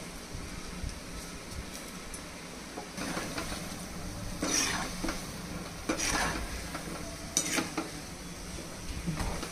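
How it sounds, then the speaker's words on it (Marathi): Small rounds of pakora batter frying in hot oil for a kadhi pakoda dish, a steady close sizzle with occasional stirring and utensil scrapes, no talking. "आपलं तेल छानपैकी गरम झालेलं आहे. आता आपण पकोडे करून घेऊया."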